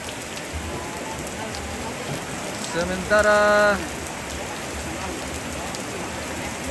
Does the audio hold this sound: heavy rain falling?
yes